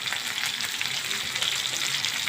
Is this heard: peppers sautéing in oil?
yes